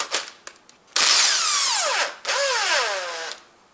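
A power tool whirs in two long bursts, its pitch rising and falling, as a 10mm socket spins a nut off a 1.8 VTEC Honda Civic (2006 to 2015). Short taps and clicks come first, the sound is loud and close, and no one speaks.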